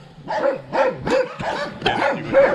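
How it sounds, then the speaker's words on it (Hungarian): A dog barks repeatedly along a countryside cycling route in Transylvania's Szilágyság region, a steady run of close, loud barks at roughly half-second intervals. "Itt jön a kutya."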